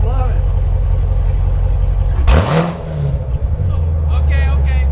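Straight-piped 2016 Corvette with headers and a catless X pipe revs hard once, a loud close burst that climbs and falls back to a deep, rumbling idle while people talk excitedly around it.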